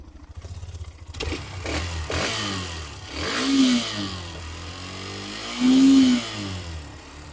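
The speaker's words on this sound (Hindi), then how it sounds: "इंजन स्टार्ट करके उसका साउंड चेक करा देता हूँ एक बार।" A Hero Xtreme 125R motorcycle engine idles with a steady low rumble, revving up twice into louder, rising bursts before settling back.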